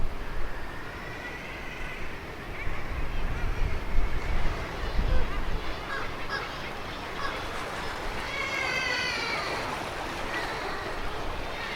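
Seabirds cry from the rocky sea cliffs of Shetland near a lighthouse, their calls echoing faintly and repeatedly over a steady wash of wind and surf, with no talk over them.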